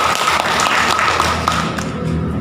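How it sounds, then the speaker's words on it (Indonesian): Audience applause at a village development program gathering, a brisk spatter of clapping from a modest crowd with a few sharper claps standing out, fading slightly toward the end. "Kita berikan tepuk tangan"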